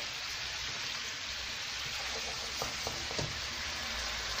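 Vegetables fry in a hot pan in a kitchen, a steady broad sizzle filling the background at moderate loudness, with a few light clinks and stirring knocks near the end.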